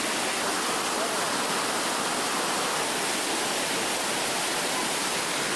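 Rushing water flowing over rocks in a stream during hot summer weather, a dense continuous broadband roar, close and loud and steady throughout with no voices.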